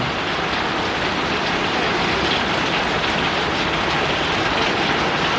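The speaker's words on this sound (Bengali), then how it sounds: "প্রচুর পরিমাণে বৃষ্টি হচ্ছে ভাই" Heavy rain falls over a city at night as a loud, dense, unbroken roar of drops striking surfaces, without pause for the whole stretch.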